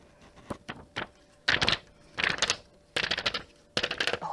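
Pink paper fed through a craft crimper tool gives bursts of crisp, crackling, ratchety clicks in four or five separate passes, close and fairly loud, with no talking.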